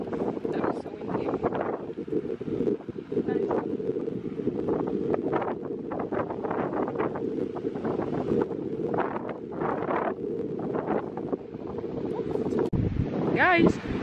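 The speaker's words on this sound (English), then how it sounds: "That was so windy." Strong wind buffets the microphone on a beach in Halmstad, Sweden, a loud continuous roar with gusty surges and surf beneath, while people talk over it throughout.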